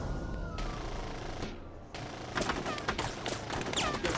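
Burst of gunfire from the military squad shooter Full Spectrum Warrior, with rapid cracking shots clustering in the second half, fairly loud over a steady background rumble.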